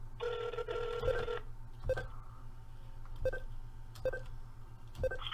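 Telephone keypad tones entering a phone number: one longer dual-tone press, then four more evenly spaced short beeps, clear and close over a faint line hum.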